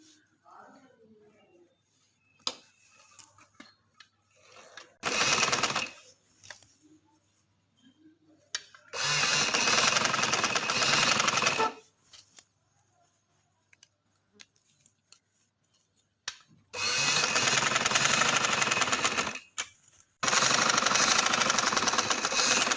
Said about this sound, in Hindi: इसके किनारे किनारे पे सिलाई लगाऊंगी